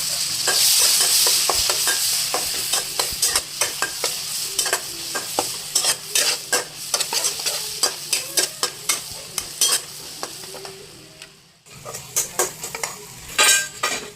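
Onion fries and sizzles in a pan with ginger and garlic for paneer bhurji, with a steady hiss broken by many sharp scrapes and clinks of a spoon stirring against the metal, close and fairly loud throughout.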